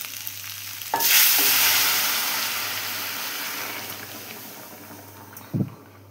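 Hot water poured onto cooked meat frying in oil sets off a sudden loud hissing sizzle that slowly fades into a steady bubbling hiss, followed near the end by a short thump from a spoon or pot.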